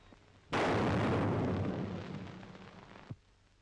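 A single thunderous blast from a 12-inch coastal artillery gun on a barbette carriage, sudden and powerful, then a long rumbling roar that fades over a few seconds and ends with a faint thump.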